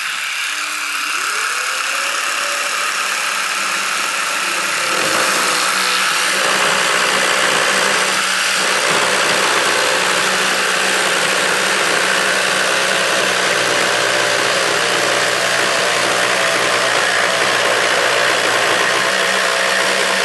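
A woodworking machine saw runs steadily through wood in a shop, its loud continuous whine rising as the blade bites in and holding with a rough, sustained buzz throughout.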